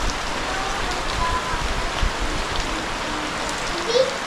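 Heavy, steady rain pours down close by, a dense continuous hiss with drops striking the wet recording device throughout, with no voices.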